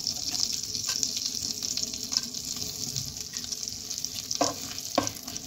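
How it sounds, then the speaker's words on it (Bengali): Dried chili, cinnamon, cloves and cardamom fry in hot oil in a pan for butter chicken, giving a steady close sizzle with occasional spoon stirs and clinks, no talking. "এবার তেলের ওপর আমি একটা শুকনো লঙ্কা আর দারচিনি, লবঙ্গ, এলাইচি দিয়ে দেব।"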